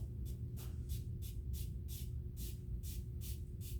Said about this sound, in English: So you have your magic spray bottle.